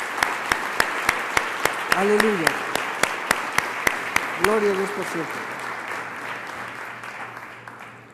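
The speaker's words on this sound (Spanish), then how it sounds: "Dale un gran aplauso al Señor." A church congregation claps in a steady, even rhythm, the sharp claps repeating about twice a second and then fading. A voice calls out over the clapping.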